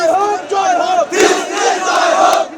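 Bangladeshi students chant a protest slogan together on a march, a loud, close crowd of massed voices rising and falling in a steady rhythmic cadence with no pauses.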